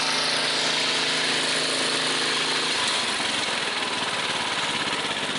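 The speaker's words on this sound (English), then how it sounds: "Got a good wide open throttle." A Briggs small engine with a rebuilt Nikki-style carburetor running at wide open throttle, a loud, close, steady buzzing roar that roughens slightly partway through.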